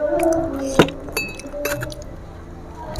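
Glasses clink together in a toast at a casual eating session, a few sharp ringing taps close by with light clatter and background noise around them.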